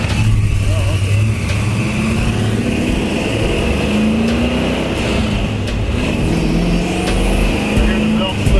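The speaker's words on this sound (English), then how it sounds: "I hear the belt slipping." A dual supercharged Foxbody Mustang engine running with a slipping belt, giving a continuous whine and squeal over a steady engine drone, with a few rising tones as the revs shift.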